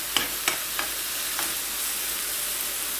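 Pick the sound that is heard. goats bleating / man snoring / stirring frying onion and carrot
stirring frying onion and carrot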